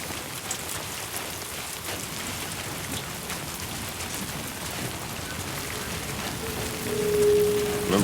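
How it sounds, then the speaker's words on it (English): Timefall rain in the video game Death Stranding 2 falls as a steady, even hiss of drops on surfaces, moderately loud throughout and thickening slightly toward the end. "Remember, this is Timefall Rain."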